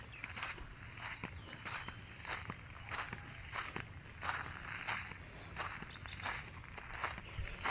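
Footsteps of someone walking a dog outdoors at midday under cloudy skies: soft, steady, evenly spaced steps, fairly faint, with light rustling and no talking.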